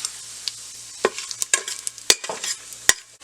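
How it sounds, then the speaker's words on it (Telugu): Whole spices frying in hot ghee and oil in an instant pot, a crackling sizzle with sharp pops and spoon taps as they are stirred, close and brisk. "ఆయిల్ నెయ్యి వేడైన తర్వాత హోల్ మసాలా దినుసులు వేసుకొని ఫ్రై చేసుకోవాలి."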